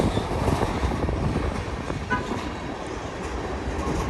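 Two freight trains pass each other at a railway crossing, producing a steady, loud rolling rumble of wheels on track with faint rhythmic clatter, continuous throughout.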